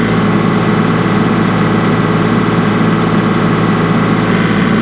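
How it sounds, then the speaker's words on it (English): A compact tractor's diesel engine revving steadily while running a small firewood processor, a loud, close, continuous drone with a constant rough vibration and no pauses. "I rev up a little too."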